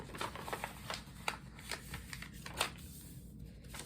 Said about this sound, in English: Then we're going to take one side and fold it to the other.